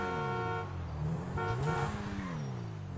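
A car horn sounding in the GTA 5 video game, a steady tonal honk held for about half a second, then a second longer blast that bends in pitch, loud and close over a continuous engine and road drone.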